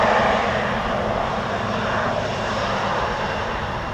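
A Boeing 777 airliner rolling out after landing at Amsterdam Schiphol, a loud, steady engine roar that slowly eases off across the whole stretch, with no voices.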